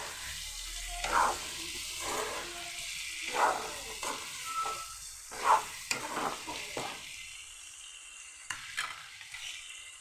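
Chicken and potatoes fry in a pan at home, a steady sizzle broken by several scraping stirs of a spoon against the metal, close and fairly quiet, with no one talking.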